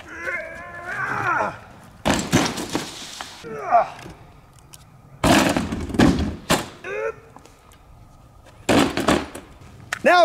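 A sawed-off 12 gauge shotgun fires several sharp, loud blasts spaced a few seconds apart, each booming and then fading, with talking between shots.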